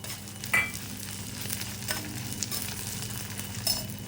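Byadgi dried red chillies fry in a pan with a soft, steady sizzle and a few light stirring scrapes, close but fairly quiet.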